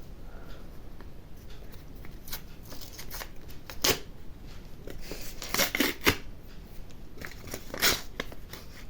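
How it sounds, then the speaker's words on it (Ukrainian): Crinkling and tearing of a paper packet, several rustling bursts close by with sharp crackly peaks, no voices. "Де у нас новорічний пакетик? Так, давайте розірвемо просто ось так."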